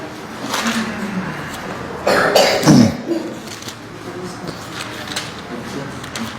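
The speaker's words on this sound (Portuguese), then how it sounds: "Fica de olho nessa tosse, hein" A single cough bursts out midway through a sermon-style church Bible study, loud and close, with broadband noise and a rougher low tail, amid quiet room ambience and faint speech.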